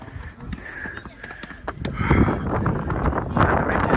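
Gusty wind buffets the microphone, with a loud rumbling roar that strengthens midway and stays strong, plus faint rustling and footsteps.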